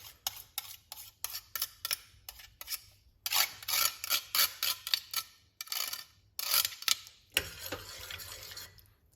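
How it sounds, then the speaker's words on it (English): Garlic is grated against a grater in quick, rhythmic rasping strokes, close and crisp, in short runs separated by brief pauses, with no talking. "when you grate it like this, you get a lot from the garlic"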